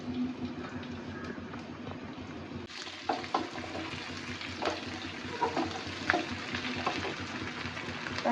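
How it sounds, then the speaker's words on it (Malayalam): Green chilies fry in a mix of cooking oil and coconut oil, a steady soft sizzle with a sudden burst when they hit the pan, then continuing crackle and small pops, fairly quiet and without talk. "ആദ്യം പച്ചമുളക് ഇടുക."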